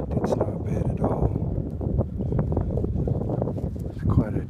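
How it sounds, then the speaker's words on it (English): Wind chill blowing in off a chilled lake in mid-December at Sequoyah State Park, a steady low rushing roar with gusty buffeting against the microphone, continuous and close for the whole stretch. "Right off the lake, the wind coming because the lake's water's getting chilled here in mid-December."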